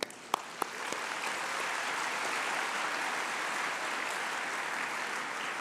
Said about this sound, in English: you can clap if you believe that too